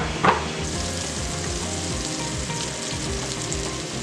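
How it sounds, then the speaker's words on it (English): Butter sizzles and crackles steadily in a frying pan before seasoned steak is fried, a dense continuous hiss with one brief clatter near the start. "when you hear that sizzling, you know that it's ready to be used"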